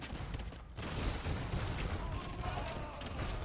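Hussite wagons in Age of Empires 2 fire their guns in a dense, continuous crackle of gunfire, loud battle noise with no clear gaps between shots.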